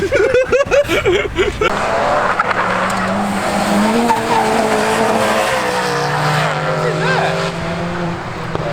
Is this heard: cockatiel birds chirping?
no